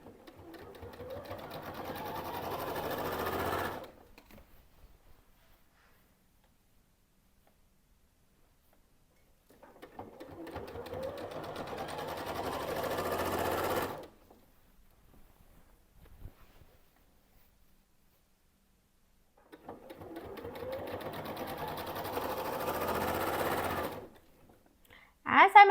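A sewing machine stitches binding onto the front of a quilt in three separate bursts of a few seconds each, a close, steady rapid whir with silent pauses between them.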